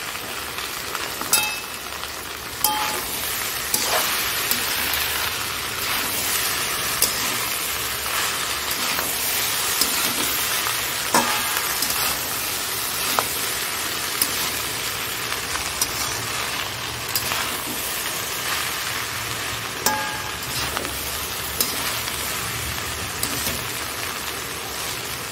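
Cooked rice stir-fries in oil with a continuous, dense crackling sizzle close by, dotted with faint taps of a stirring utensil throughout.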